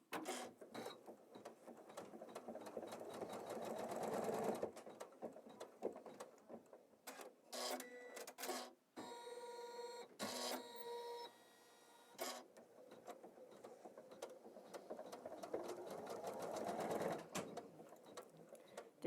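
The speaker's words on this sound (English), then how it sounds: "we are going to sew the placement lines for this ribbon" An embroidery machine stitching ribbon placement lines hums and chatters in a fast mechanical rhythm, close and steady, with a stretch of brief stops, clicks and jumps partway through before it resumes.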